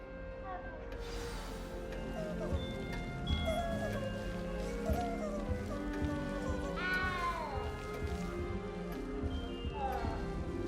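A cat meowing in Hogwarts Legacy, with several drawn-out mews over about ten seconds set against the game's steady background soundscape.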